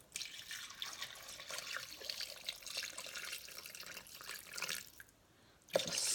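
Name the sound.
liquid pouring into Thermomix bowl on scales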